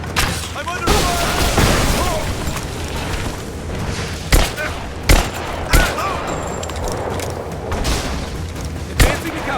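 Gunfire in the video game Rise of the Tomb Raider: sharp single shots crack out at irregular intervals over a dense, rumbling battle backdrop, loud and close.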